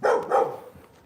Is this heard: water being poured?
no